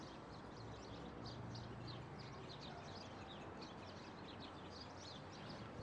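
Small birds chirping in street trees along a Monterrey city walk, a steady dense twitter of calls over a constant hiss of traffic and urban noise.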